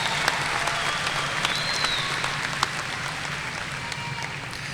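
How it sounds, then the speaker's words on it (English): Audience applause at a spring graduation ceremony, a sustained wash of many hands clapping with a few sharper individual claps, steady and moderately loud throughout. "Now, go ahead, clap whenever you want. Let's go. Let's clap."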